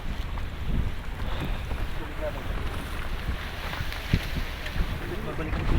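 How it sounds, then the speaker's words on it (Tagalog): Steady strong wind buffets the microphone over rushing water at a breakwater in Abu Dhabi, with faint voices in the background throughout. "Uy, mahangin yata."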